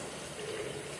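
Warm water runs steadily from a tap as hands are washed in a home bathroom sink, a continuous close gushing hiss with no pauses.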